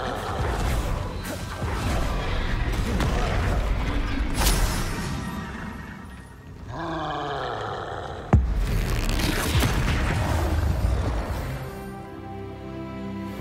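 Confringo fire spell blasts in the video game Hogwarts Legacy, a run of whooshing magical bursts and crashes amid dense game combat noise, with one sharp impact standing out, fairly loud throughout.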